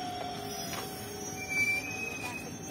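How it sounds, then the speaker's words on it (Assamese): A train rolls into a station with a continuous metallic rumble and a thin, high wheel squeal that rises midway, heard close and fairly loud with no talk over it. "ট্ৰেইন আহি পালে যাওঁ আৰু, এতিয়া খালী ট্ৰেইন পুৰা খালী খালী"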